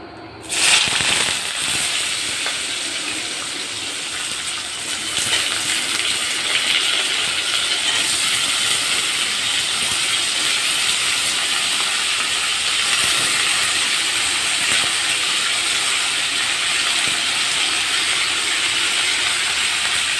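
Cumin seeds sizzle loudly in hot oil in a wok, a steady bright hiss that breaks out after a brief start and holds on without pause, no voices over it.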